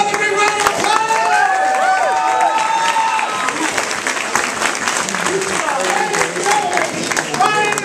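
A banquet audience gives a round of applause, a thick, sustained wash of clapping mixed with cheering and crowd noise, while voices and tonal sounds ride on top throughout.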